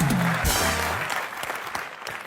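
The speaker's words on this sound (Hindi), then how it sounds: "एक बार जोरदार तालियों से दोबारा हम लोग स्वागत करते हैं" Loud applause from a studio audience welcoming a guest onto the stage, strong at first and gradually fading, with a brief voice at the start.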